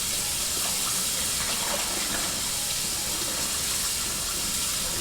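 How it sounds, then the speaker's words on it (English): Warm water mixed with vinegar runs steadily over raw chicken in a sink, a loud continuous splashing rush with no pauses and no voices. "we're gonna wash it with warm water"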